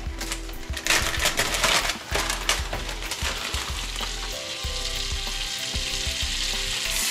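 Parsley and a little flour frying in a pan over heat: a close, continuous sizzle with rapid clicking crackles and the scrape of stirring, louder at first, then settling into a steady fry.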